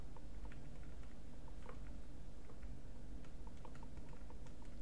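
Computer keyboard keys tapped while operating the CMUS command-line music player, a quick irregular run of light clicks over steady background hiss, no talk.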